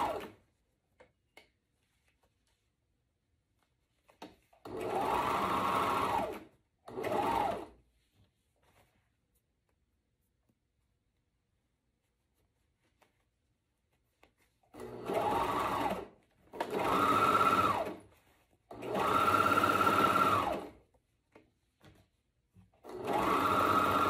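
Sewing machine stitching the arm side seam of a corset with a shelf bra, running in several separate bursts of about one to two seconds each, with quiet pauses between them and no talk.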